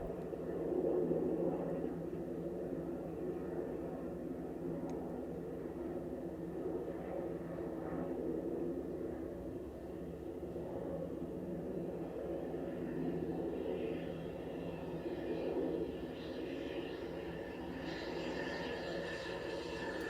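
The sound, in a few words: airplane flying overhead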